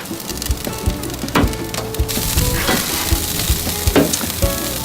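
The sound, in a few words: spicy burgers sizzling on a BBQ grill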